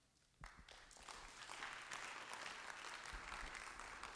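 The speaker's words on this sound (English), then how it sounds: "Hey, that's pretty good applause for after lunch" An audience at a school district meeting breaks into applause to welcome a speaker after lunch, starting suddenly and building into steady clapping that continues to the end.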